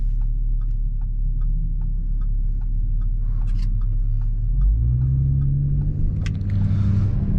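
An Audi SQ5 fitted with AWE downpipes and a touring catback exhaust drives along, its deep engine and exhaust rumble loud and steady from inside the car, deepening slightly as it pulls harder.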